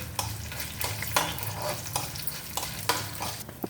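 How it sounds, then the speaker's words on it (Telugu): Mustard seeds, cumin and dry red chillies temper in hot oil, giving a steady close sizzle broken by repeated scraping stirs of a spoon in the pan. "రెండు ఎండుమిరపకాయలు కూడా పించేసేసానండి"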